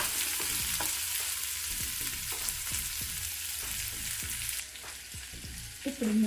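Vegetables for veg dum biryani cook over a high flame, a loud, dense sizzle with a regular series of stirring scrapes, easing off near the end where a soft clunk sounds.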